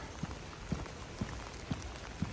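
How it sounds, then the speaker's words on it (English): Steady rain falls outdoors on a rainy farm day, a soft, even hiss that fills the clip, with dull low thumps repeating about every half second underneath. "this is still the rainy day that I showed at the end of my last video."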